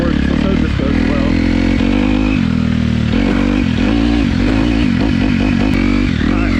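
A motocross motorcycle tearing around a sand track, its engine loud and close, revving and surging continuously with gear changes and gritty clatter throughout.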